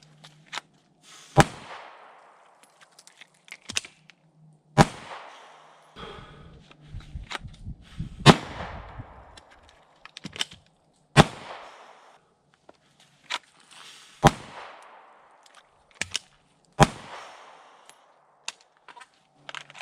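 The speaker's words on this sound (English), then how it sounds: "Let's go shoot some stuff." Firearm shooting practice at a range, with sharp, loud single gunshots spaced irregularly a second or several apart, some followed by brief rustling and handling noises in between.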